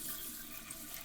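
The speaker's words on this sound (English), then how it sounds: "what I'm going to do is flush the commode." A household toilet flushes with a loud, steady rush of water that fills the whole moment without pause, heard up close indoors.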